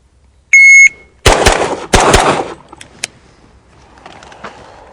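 During a practical pistol shooting drill, a shot timer beeps once, then several sharp, loud pistol shots ring out in quick succession, with a couple of fainter distant cracks afterward.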